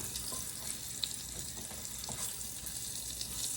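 Fenugreek seeds and green chillies sizzle steadily in a hot pan, a close, continuous crackling fry with a few brighter pops and no voices.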